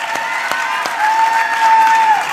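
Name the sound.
applause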